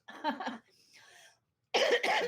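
A few harsh coughs come in two bursts separated by a short pause, close and fairly loud, with a faint breathy sound between them.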